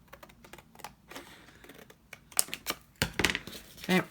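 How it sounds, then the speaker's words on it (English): Scissors cut through paper along a marked line, giving a series of short crisp snips that grow louder and denser toward the end, close by with no talk. "And I'm going to cut along that line."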